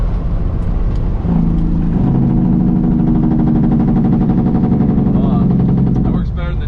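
A Cummins N14 truck engine with straight pipes drones loudly and close, its deep rhythmic rumble building as the Jake brake engages in a steady staccato bark before cutting off near the end.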